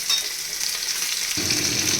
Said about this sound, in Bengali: এইখানে মুড়োটা ভাজা ভাজা হচ্ছে